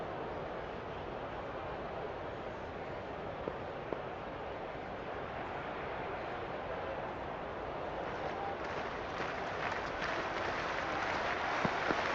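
Crowd atmosphere fills a cricket stadium before the first ball of a women's T20 World Cup match between India and Australia, a continuous, distant roar of cheering and clapping that swells slightly toward the end.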